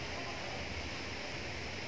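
Takapala waterfall in South Sulawesi, the province's tallest, gives off a steady broadband roar of falling water, dense and continuous with no breaks.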